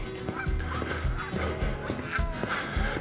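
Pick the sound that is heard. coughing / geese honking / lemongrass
geese honking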